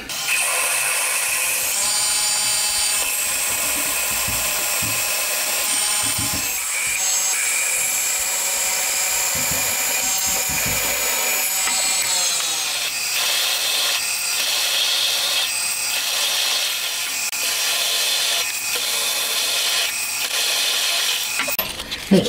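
A power drill bores mounting holes through a homemade camshaft part. It makes a loud, steady whine that runs almost the whole time, with shifts in pitch as the bit cuts, and no talking.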